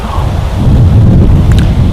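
Heavy wind buffets the microphone with a loud, continuous low rumble and roar, with no talking, outdoors in the woods of northern Wisconsin in November.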